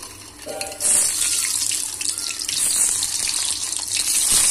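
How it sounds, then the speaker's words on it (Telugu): Peeled boiled eggs frying in hot oil for an egg curry give a steady, loud sizzling hiss, swelling after the first second and holding with bubbling crackle throughout. "వీటిని బాగా ఫ్రై చేయాలి, బాగా ఫ్రై అవనివ్వాలి."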